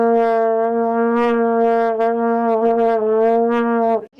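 A wind instrument holds one continuous note through circular breathing, the pitch wavering slightly and the tone gently shifting for about four seconds before it cuts off, loud and alone.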